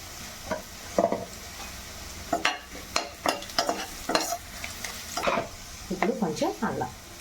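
Curry leaves and turmeric fry in a pan for a dhaba-style egg masala curry, a moderate sizzle under repeated spatula stirs and scrapes, with a short voice-like murmur near the end.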